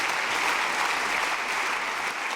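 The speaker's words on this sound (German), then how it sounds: "Stehender Applaus für die 86-Jährige." A parliamentary chamber erupts in sustained standing applause for an 86-year-old speaker, dense and steady clapping from many hands filling the room throughout.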